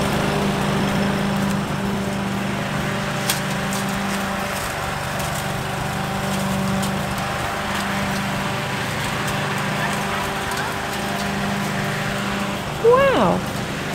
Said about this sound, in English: Dad, let's show BLiPPi what the lawnmower can do when it starts on and go onto the bricks.